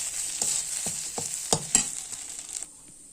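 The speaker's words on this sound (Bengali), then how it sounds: "কিন্তু যত পারবে তত ভালো করে ভাজবে আর সুন্দর অনেকটা তেল দিতে হবে" Oil sizzles steadily in a pan of frying leaf paste while a spoon scrapes and stirs a few times, then the hiss carries on alone near the end.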